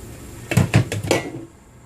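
A lid set onto a cooking pan makes a short run of close metallic clanks and rattles, four quick hits inside about a second.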